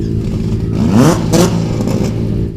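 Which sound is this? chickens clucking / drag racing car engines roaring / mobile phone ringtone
drag racing car engines roaring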